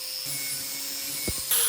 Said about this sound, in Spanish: Con la amoladora angular, recortaremos las esquinas y daremos una forma circular a esta pieza.